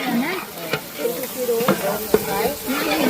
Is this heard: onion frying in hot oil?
yes